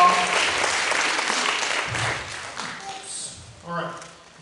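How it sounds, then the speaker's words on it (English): An audience applauds at a children's academy event, a broad steady wash of clapping that fades toward the end, with voices talking over it. "So give her a round of applause."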